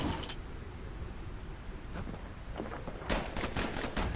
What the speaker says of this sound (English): Know what's better than having a slinger pistol in a fight? Having two.